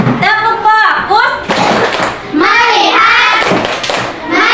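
Children in an Indonesian classroom chant a clapping cheer in unison, their voices rising and falling, with bursts of hand clapping in between; the chant sounds close and loud.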